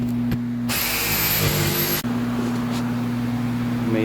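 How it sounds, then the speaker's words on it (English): A jigsaw cuts into a wooden countertop with a loud, buzzing whine for over a second, then stops, leaving a steady motor hum before and after. Nobody talks. "Now we use jigsaw."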